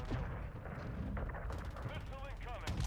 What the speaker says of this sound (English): I am shooting missiles literally everywhere and getting no kills